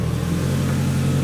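A car engine hums steadily in neutral after a clutch install, a close mid-pitched running sound that holds level through the short moment, with no talking.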